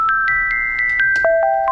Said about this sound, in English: Now you're like, okay, still sounds like a sine wave.